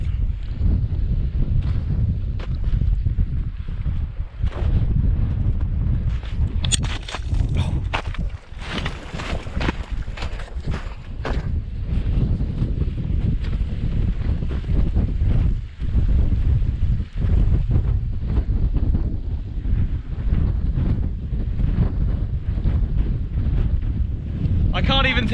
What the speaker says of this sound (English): I can't even tell you how cold it is up here as the wind is blowing up this extraordinary valley